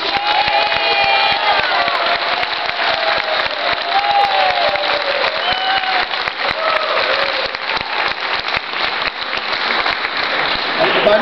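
A crowd applauds for Lisa at an animal-protection gathering, steady dense clapping with scattered cheers and whoops, sustained at an even level throughout, with some voices mixed in.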